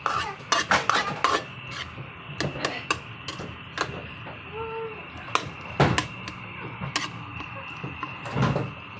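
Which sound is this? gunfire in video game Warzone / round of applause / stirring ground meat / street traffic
stirring ground meat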